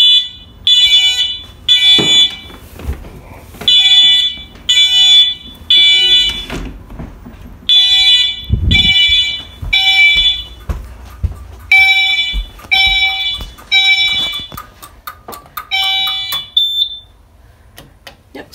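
A home fire alarm system sounds during a test of a first-floor smoke detector and pull station, giving loud, repeating bursts of high electronic alarm tones with brief gaps between them, near and alone without talk.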